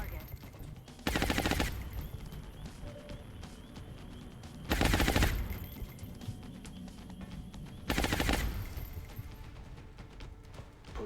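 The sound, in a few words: suppressing gunfire in Long War video game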